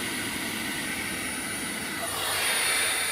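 A Bosch vacuum cleaner motor runs without its filter, giving a steady, loud, close whooshing roar of rushing air and motor whine that holds constant throughout, rising slightly in intensity near the end.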